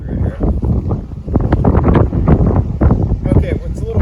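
Strong outdoor wind buffets a microphone in loud, rumbling gusts throughout, with a person talking over the roar.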